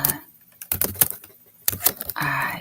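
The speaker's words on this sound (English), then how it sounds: "And please enjoy the typing." Bursts of quick tapping on a computer keyboard, close by, with short pauses between runs and a steady hum of background noise near the end.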